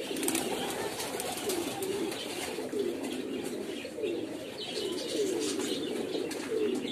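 Pigeons at a pigeon farm's open flying zone coo steadily in repeated low, rolling calls, a dense chorus close by with occasional chirps and faint wing flaps mixed in.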